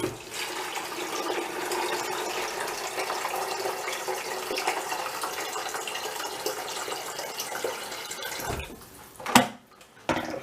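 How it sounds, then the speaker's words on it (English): Tap water runs steadily into a kettle for home brewing, a continuous broad hiss and gush that holds level for several seconds, then cuts off with a few clatters and drips near the end. "now need to fill that kettle again."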